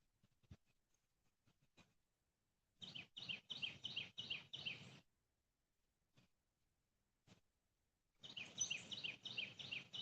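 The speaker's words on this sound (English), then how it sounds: "There is a weird bird that makes a weird sound." An odd bird call comes in two bursts of rapid, high, buzzy chirps separated by quiet, with a few faint ticks between them, mid-distance and moderately loud.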